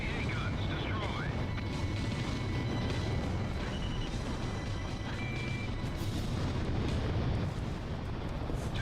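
Anti-aircraft guns explode in an Ace Combat Zero air battle, producing a continuous, dense rumble of blasts and bursts with a steady roar throughout and faint radio voices mixed in.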